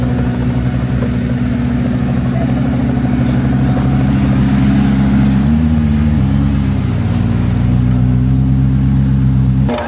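Pagani Huayra R supercar engine, a loud, close, steady roar with a shift in pitch midway as it revs, heard alone without talking.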